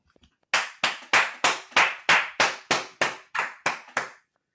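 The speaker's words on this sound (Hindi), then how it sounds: "आइए हम पूर्ण तालियों से खुदावन की हादमा को वेलकम करें" A few soft taps give way to a run of about eleven sharp, evenly spaced hand claps, close and loud, rhythmic welcoming applause at a Christian worship gathering.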